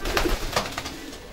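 A homing racing pigeon in a loft gives a few soft, close coos in quick succession, fading toward the end, with no talk.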